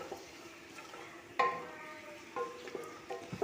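Onions stirred and fried in a pan with ghee, cloves and cardamom for ghee rice: a faint, low sizzle broken by a few sharp clinks and scrapes of the spatula against the pan.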